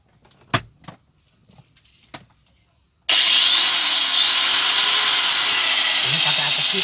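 Angle grinder powered through an inverter from an Isuzu Panther's battery: a few knocks and clunks, then the tool bursts on into a loud, steady high whine that holds to the end.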